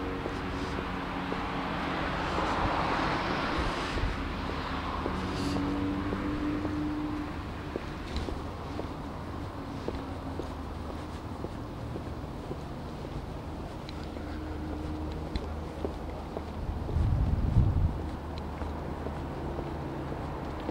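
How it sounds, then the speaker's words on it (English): Wind blows across a microphone outdoors on the Victoria Embankment in London, a constant low rumble and buffeting with faint distant traffic underneath and a brief stronger gust near the end. "It's a bit windy. I don't know if the mic's picking it up."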